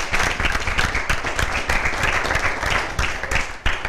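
Studio audience applause on an Italian football talk show, with dense, steady clapping from many hands filling the room and a few louder individual claps.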